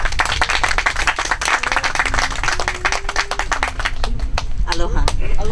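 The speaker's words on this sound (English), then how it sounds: "Give a round of applause for Cynthia." Audience at a Hawaiian community gathering clapping and applauding for a woman named Cynthia, a loud crowd of sharp claps with a sustained musical tone and some voices mixed in.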